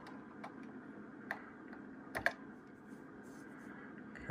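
Typing on a computer keyboard, faint scattered clicks and a few sharper key taps over a quiet background hum, irregular and close.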